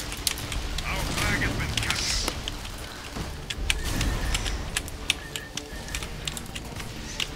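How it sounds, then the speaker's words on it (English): Sporadic gunfire and sharp impacts in the video game Tribes: Ascend, scattered snaps over a steady engine-like rumble, with a player talking throughout. "Oh shit, somebody's shooting at me"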